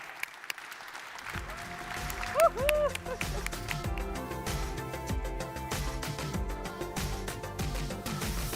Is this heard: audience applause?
yes